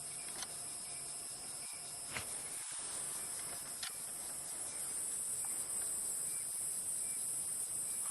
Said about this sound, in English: The cicadas in the background as well.